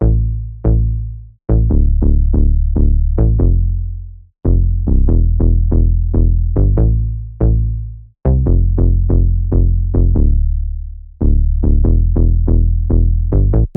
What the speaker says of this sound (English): So we got the bass, which is like the most important part of the beat because it just gives that bounce